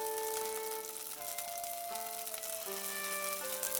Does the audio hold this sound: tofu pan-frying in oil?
yes